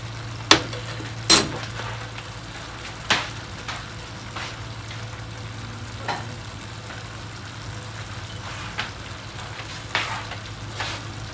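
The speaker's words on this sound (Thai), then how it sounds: "ผัดไฟไม่แรงนะครับ" Omelette filling stir-fried in a pan over medium-low heat gives a soft, steady sizzle with a few sharp utensil clinks against the pan, and no one speaks.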